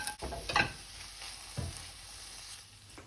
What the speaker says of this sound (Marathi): बेकन जालें आमगेलें हांव आतां हे फ्रायंग पॅनाक घालता आनी बरें मिक्स करुया